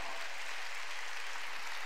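Korean church congregation applauding to God during a Wednesday worship service, a dense, continuous roar of many hands clapping at even loudness throughout.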